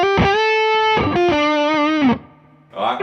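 Distorted electric guitar licks played dry with no delay pedal, only a touch of amp reverb, loud and close, notes cutting off cleanly before a brief gap and a short burst of further playing.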